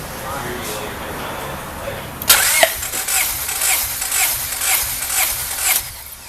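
A 1995 Honda Del Sol VTEC with a JUN 1.8L stroker engine cranks over on the starter during a compression test. After a quiet lead-in it sets up a loud, steady, rhythmic churning that lasts several seconds.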